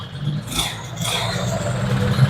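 A restored 1985 Binter Joy motorcycle engine idles with a steady low rumble and light mechanical clatter, close by and moderately loud.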